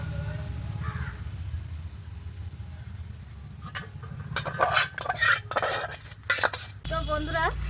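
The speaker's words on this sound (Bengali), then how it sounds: "আমটা দিয়ে ভালো করে একটু নেড়ে চেড়ে ফুটিয়ে নিচ্ছি" Raw mango pulp is stirred in a wok, starting quietly before a run of close, uneven scraping and clattering strokes, with a crow cawing outside at the start and end.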